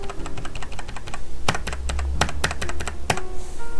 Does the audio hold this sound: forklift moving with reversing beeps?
no